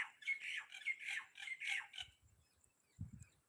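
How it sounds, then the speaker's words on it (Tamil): Many small birds gather at a doorway under a neem tree, pecking at fallen neem fruit; faint, shrill squawks and chirps chatter in a quick run, then thin out, with soft low thumps near the end. "அதை கொத்தி சாப்பிட ஏகப்பட்ட குருவிகள் இருந்து இந்த வாசல்லே உட்காந்துருக்கு"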